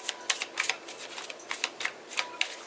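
Tarot cards shuffled in close bursts, about a dozen quick crisp riffling flutters in an uneven rhythm, with no voices.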